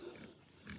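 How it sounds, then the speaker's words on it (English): Pigs on a hobby farm grunt faintly in a brief, quiet moment, two soft oinks close together. "pigs are coming back."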